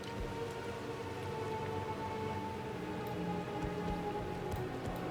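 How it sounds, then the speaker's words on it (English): Heavy rain of blood falls in Diablo 4, a dense, steady patter with a low rumble beneath, continuous and fairly quiet with no one speaking. "This rain of blood."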